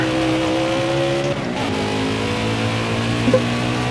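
A NASCAR Heat 5 race truck lays down a lap in the Canadian Tire truck setup, its engine droning loud and steady at high revs with a brief shift dip partway through and no voices.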